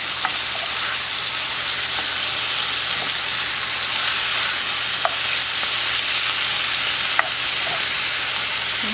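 Butter and rice stirred in a hot pan for seasoned chorizo rice, a steady close sizzle of frying with a few sharp clicks of the utensil against the pan, no talking.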